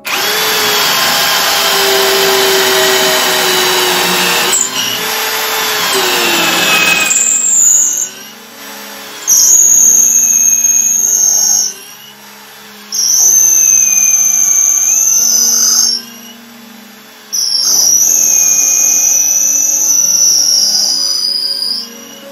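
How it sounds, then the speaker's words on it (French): A power drill bores into a solid walnut tenon for a Roubo workbench in several loud, whining bursts, with the pitch dropping under load and short pauses between runs. "je perce dans le tenon et cette mèche-là fait la même longueur que mes tire-fonds"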